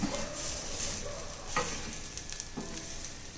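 Maida filling cooking in ghee in a pan for a coconut semiya snack, a soft continuous sizzle with a few brief stirring scrapes, close and quiet.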